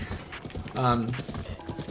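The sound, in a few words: horse hooves clip-clopping in video game Zelda: Breath of the Wild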